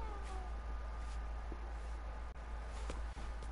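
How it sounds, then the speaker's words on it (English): A cat meows faintly a few times over low background rumble and small clicks during a Fortnite session, with no clear talking. "Cat went meow."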